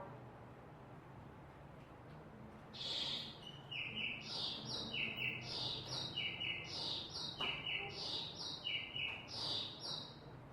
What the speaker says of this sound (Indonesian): anak si kakek mendengar seekor burung sedang berkicau